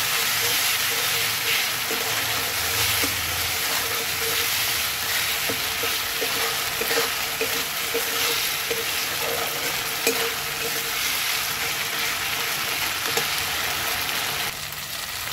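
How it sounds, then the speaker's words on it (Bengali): Spice paste with turmeric and a pinch of sugar sautéing in oil for a raw banana kofta curry: loud, constant sizzle and hiss with repeated scraping strokes of a spoon stirring the pan. "মশলাটাকে ভালো করে কষিয়ে নিই।"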